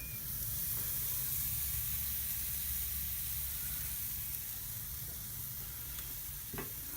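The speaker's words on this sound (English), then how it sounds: "I'm going to put on my rump at the back." A rump steak sizzling over hot coals on a grill gives a continuous, fairly loud hissing crackle that holds evenly throughout, with a few faint pops and no voices.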